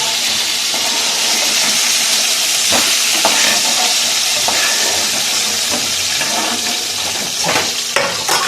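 Singhi fish fries in a generous layer of hot oil in a wok, a loud, dense, continuous sizzle with occasional sharp pops and crackles close by.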